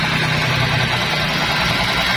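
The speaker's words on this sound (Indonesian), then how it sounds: "Untuk mesinnya kita akan coba nyalakan mesinnya ya." A Daihatsu Xenia engine idles nearby with a steady, even low hum and faint vibration, with no talk over it.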